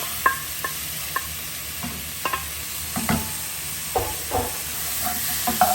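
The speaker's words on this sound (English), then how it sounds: "next I'm going to add my tomatoes and my peppers." Tomatoes and peppers sizzle in a pan with garlic, with steady frying hiss under a series of clear scraping and tapping stirs spread across the clip; no one speaks.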